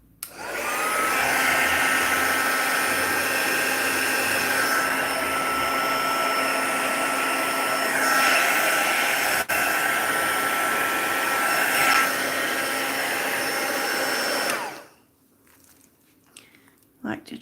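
Crafters Choice heat tool blowing hot air over paint mixed with blending solution, a loud continuous whooshing roar for about fourteen seconds that cuts off abruptly, leaving near silence and a few small noises.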